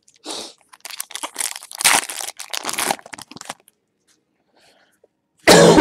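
A man coughs repeatedly in a rough, harsh burst of several hacking coughs lasting a few seconds, close and loud, followed by a brief silence and another loud noise at the end.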